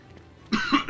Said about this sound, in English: You got a nasty cough.